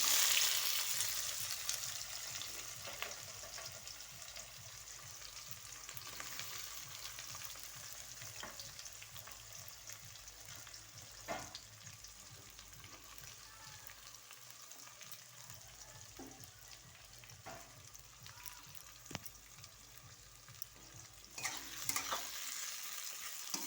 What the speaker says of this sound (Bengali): পেঁয়াজটা সুন্দর লাল লাল করে ভেজে নেব।